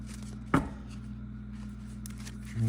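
Tarot cards are riffle shuffled on a cloth: one short, crisp burst of card flutter, then a quiet, steady background, with a faint rustle or handling noise at the end.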